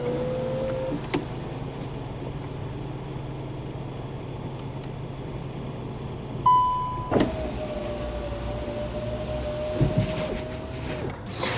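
The electric roof of a 2024 Volkswagen T-Roc 1.0 opens with a steady motor whine inside the cabin. A click comes first, then the drive runs for several seconds at an even, moderate level.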